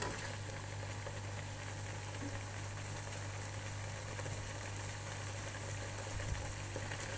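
Apple jam simmering in a pot on the stove, a steady low bubbling and sizzling hiss with a constant hum underneath, continuous and even throughout.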